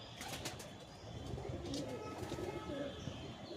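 A Madrasi pigeon coos softly and close by, low murmuring calls repeating over faint background noise, with a person talking nearby.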